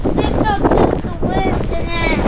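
Strong wind at Mount Cook, New Zealand, buffeting the microphone in a loud continuous roar while people talk close by.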